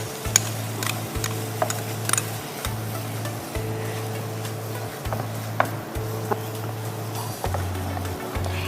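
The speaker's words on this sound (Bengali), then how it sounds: "একটু কষ্ট করে নাড়তে থাকতে হবে, না হলে লেগে যাবে, লেগে পুড়ে যাবে।" Egg chhana stirred in ghee with saffron in a pan makes a steady sizzle under regular scraping strokes of the spoon, close and continuous with small ticks.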